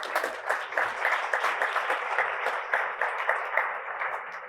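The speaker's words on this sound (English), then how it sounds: "that deserves a round of applause" Audience at a Columbus Metropolitan Club community conversation breaks into a round of applause, a steady, fairly close wash of many hands clapping throughout.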